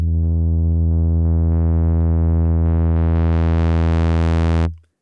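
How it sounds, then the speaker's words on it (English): FM synth sine tone with operator self-feedback rising step by step so overtones build until it sounds almost like a saw wave, a steady loud sustained note that cuts off abruptly at the end. "so we basically almost create a saw wave"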